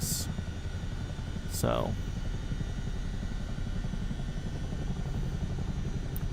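A Chinook helicopter in Microsoft Flight Simulator 2024 gives a steady low rotor and engine drone that continues throughout, while someone says a word over it near the start.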